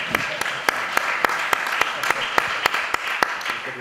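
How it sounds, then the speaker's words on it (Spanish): A small audience at a livestock-infrastructure talk claps in a sparse, evenly spaced rhythm, each clap crisp and distinct, moderately close and steady for a few seconds. "Un aplauso para él."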